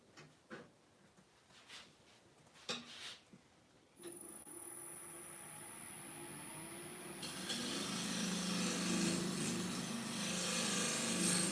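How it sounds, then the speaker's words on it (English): A sharp scraper cutting an olive ash wooden bowl on a lathe: a few scraping knocks at first, then a spinning, steady rasping hiss with a high whine that grows louder and rougher, close by. "So I've just got a nice sharp scraper here."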